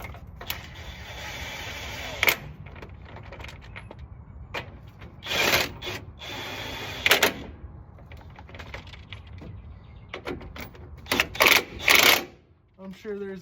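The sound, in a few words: powered tool tightening steering gearbox bolts on Silverado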